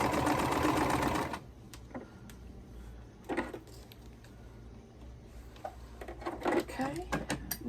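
Sewing machine stitching a quilt block from 1.5 inch fabric scraps, a steady rapid whir for over a second followed by a quiet stretch broken by short bursts of stitching and small clicks and rustles of fabric handling.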